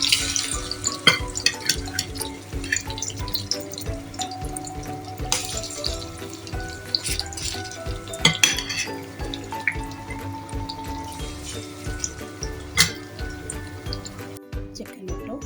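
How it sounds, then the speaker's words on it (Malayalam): Chicken pieces frying in oil, a dense continuous bubbling sizzle up close with intermittent clinks and splashes throughout. "നമ്മൾ ചിക്കൻ വറുത്ത് കോരാൻ പോവാണേ."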